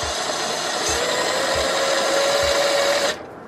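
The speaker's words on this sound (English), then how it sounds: "hand tighten these bolts to get them started before you zap them with your impact" An impact wrench tightens the subframe rigid collar bolts on a Honda S2000, giving a loud, close, sustained whirring buzz with regular hammering pulses for about three seconds before it cuts off.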